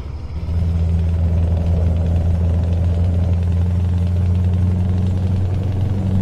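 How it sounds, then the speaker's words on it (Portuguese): A bus drives downhill in a truck driving video game, its engine a steady, loud low drone with a constant hum that holds for the whole stretch, with no talking. "Caraca, veio um ônibus descendo aí."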